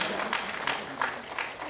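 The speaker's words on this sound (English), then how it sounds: "Ek baar zordar taaliyan ho jaye, ladies and gentlemen." Audience applause at an awards ceremony comes in uneven bursts of clapping, moderately loud, with a host's voice talking over it.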